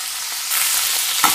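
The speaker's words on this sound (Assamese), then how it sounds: "এতিয়া এইখিনি মই হাই ফ্লেমতে অকমান বিলাহীখিনি সফট হোৱালৈকে আৰু পিঁয়াজখিনি অকমান সিজালৈকে 3-4 মিনিটমান অকমান এইখিনি ভাজি লম" Tomatoes and onions frying on high flame, a steady broadband sizzle across the short stretch that grows a little louder partway through, with a brief clink of stirring near the end.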